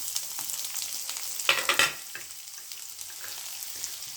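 Red chillies and other seasoning frying in oil in a pan for idli upma, with a crisp continuous sizzle and a loud burst of crackling scraping stir strokes midway, then quieter sizzling.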